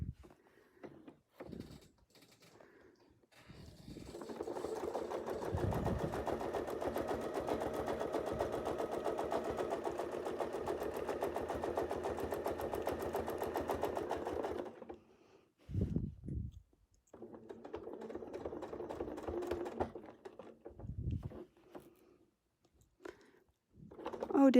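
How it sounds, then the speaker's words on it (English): A sewing machine stitches a wreath design while its bobbin makes odd noises, running in a steady loud burst for about ten seconds, then in shorter stop-start runs with quiet pauses between them. "I can hear my bobbin is making some funny noises."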